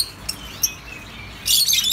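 Pet birds chirp in a bird shop, with a few short separate tweets early on and then a louder burst of overlapping chirping near the end. No one speaks.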